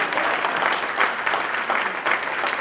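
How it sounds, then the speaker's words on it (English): Loud, steady applause from a large audience at a ceremonial gathering, continuous clapping filling the space for a few seconds with no voices over it. "Let's give him another big round of applause."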